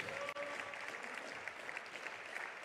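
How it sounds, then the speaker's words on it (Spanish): Church congregation clapping together, a steady, fairly faint ripple of applause filling the room with a few voices underneath. "Un aplauso al Señor Jesús."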